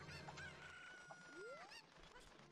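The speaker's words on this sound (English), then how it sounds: "Look how easy it is to grab chickens here." Chickens in the video game The Legend of Zelda: Ocarina of Time, a quiet rooster-like crow and a few squawks and clucks set against faint background game sounds.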